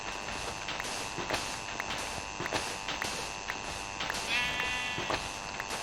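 Sheep in a video game bleating repeatedly, with several short wavering bleats over a steady game ambience and footstep-like clicks, fairly close and clear.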